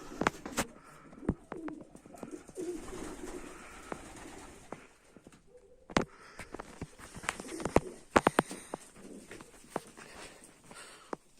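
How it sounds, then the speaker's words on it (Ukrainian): Soft pigeon cooing sounds now and then amid outdoor ambience, with sharp taps and scuffling footsteps scattered throughout. "От голубка вон побігла королівська"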